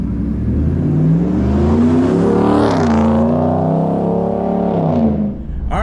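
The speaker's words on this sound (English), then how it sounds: "you can hear that V8 sound." The V8 engine of a Ram Rebel pickup truck revs hard and holds a loud, throaty roar through the exhaust, rising and falling before easing off near the end.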